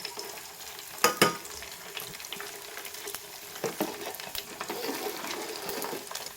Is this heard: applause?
no